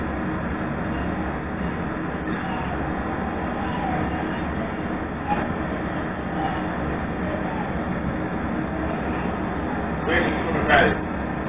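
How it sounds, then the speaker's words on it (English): A steady, low rumble of a Chicago CTA Red Line subway train in motion, headed toward Roosevelt, fills the clip, with faint squeals and rattles rising briefly near the end. "This is a Red Line train to Howard."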